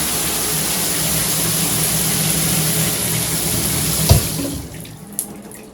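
Water runs steadily from a handheld filtered showerhead in a shower for several seconds, then the flow is shut off, leaving a quieter tail with a couple of small clicks.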